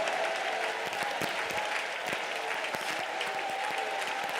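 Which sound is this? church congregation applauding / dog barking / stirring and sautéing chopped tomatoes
church congregation applauding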